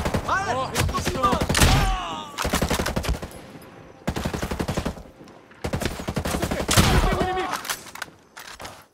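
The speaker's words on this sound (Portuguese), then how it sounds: "Atira nesses safados! Atira!" Loud machine-gun fire in the video game Ghost Recon Breakpoint, with repeated close bursts broken by short pauses while excited voices shout over the shooting.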